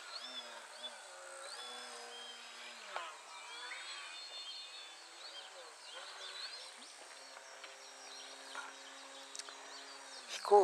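A model airplane engine buzzes with a high, wavering whine that rises and falls as it flies, fairly faint and steady throughout, with people talking over it outdoors.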